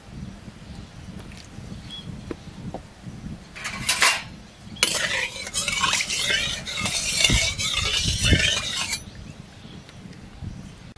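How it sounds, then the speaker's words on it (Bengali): Mustard oil hits a hot kadai on a lit stove with a sharp crackle, then a steady hissing sizzle that lasts about four seconds before dying down to a quiet background. "কড়াই গরম হয়ে গেছে, সর্ষের তেল।"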